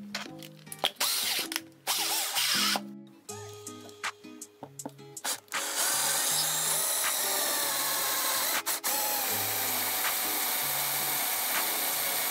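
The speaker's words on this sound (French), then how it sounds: "Une fois percé avec un diamètre de 5 mm" A power drill bores a 5 mm hole through a wooden board, running in short bursts of rising and falling whine with clicks and pauses, then settling into a steady loud grind.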